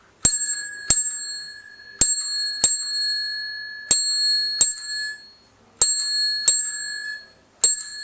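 A bicycle bell rings in sharp metallic dings, some single and some in quick pairs, each one ringing out clearly and decaying, spaced irregularly across a quiet background with no talking.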